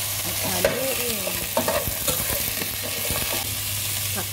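Squash sautéing with vegetables in a frying pan gets stirred, a utensil scraping and clacking against the pan over a steady close sizzle, with no talk.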